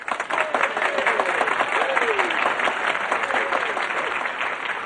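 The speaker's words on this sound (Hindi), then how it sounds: "सिर्फ वो ताली बजाइए" A large audience claps in sustained, dense applause that fills the whole stretch, with scattered voices and whistle-like calls rising over the clapping.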